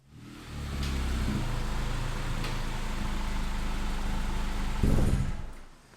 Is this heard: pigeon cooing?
no